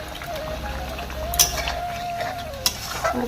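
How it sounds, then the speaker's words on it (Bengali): Fish sizzling in a pan for fish kalia, with occasional stirring and a couple of sharp metallic clinks against the pan. "আমরা এখন মাছের কালিয়া করছি কালিয়া"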